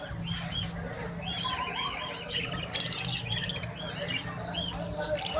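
Parrots at a Sunday bird market chirp in two short, sharp bursts of rapid high tweets over a constant crowded market murmur.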